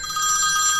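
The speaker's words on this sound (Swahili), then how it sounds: "Pale simu naita." A telephone rings with a short, bright, continuous electronic tone, loud and close, heard alone.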